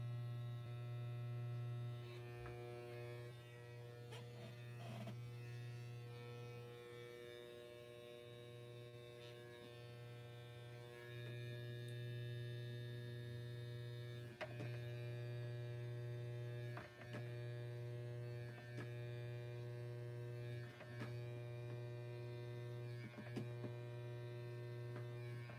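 Electric clippers shave faux fur while a fursuit is being made, a steady close buzzing hum running throughout with slight shifts in tone as the blades move across the fur.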